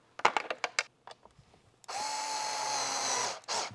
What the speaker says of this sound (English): I'm using a power tool, but the last little thread, I'll make sure that I just turn by hand